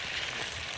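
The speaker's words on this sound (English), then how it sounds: "Now, our potatoes are frying." Potatoes fry in a pan with a steady, close hiss and soft crackle, an even sizzle running unbroken through the short moment with no talking.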